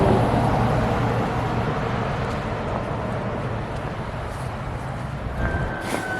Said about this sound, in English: There's our bus.